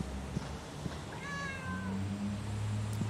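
A cat gives a single drawn-out meow in the video game Bleak Delivery, moderately loud over a low ambient hum with faint scattered knocks.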